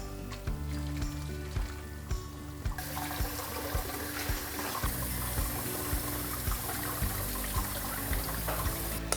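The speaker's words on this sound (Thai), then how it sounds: "แล้วเดี๋ยวเราเอาไปล้างน้ำเย็นกันนะครับ" Cold water runs steadily over cooked tapioca pearls in a kitchen, a continuous splashing rush with faint clinks of a strainer or bowl, close and with no voices.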